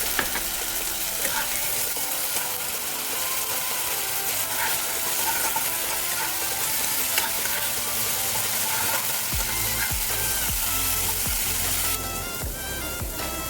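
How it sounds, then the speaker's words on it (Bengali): Ginger-garlic paste frying with golden-browned onions in a pan, a steady, close, dense sizzle running continuously with occasional stirring scrapes and no talk. "রসুন আদাটা ভালো করে আমার ভাজা ভাজা করা হয়ে গেছে"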